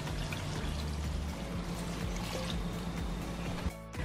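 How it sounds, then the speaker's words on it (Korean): Kimchi broth poured steadily over lightly salted radish and cabbage with scallion and chili peppers for water kimchi, a close continuous liquid splash and trickle that stops abruptly near the end. "여기에 김치 국물을 부어주세요"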